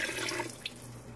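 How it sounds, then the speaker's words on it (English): Four cups of water pour into a pot on medium-high heat for Hawaiian-style oxtail soup, a brief steady splashing stream heard close up. "And to the pot, I'll be adding 4 cups of water."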